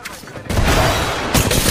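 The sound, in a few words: grenade explosion in video game Apex Legends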